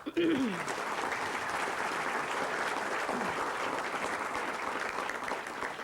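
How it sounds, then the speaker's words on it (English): Audience applause at a speech, a burst of clapping from a crowd that holds steady and dense throughout, with a voice audible at the very start. "I think they deserve a round of applause"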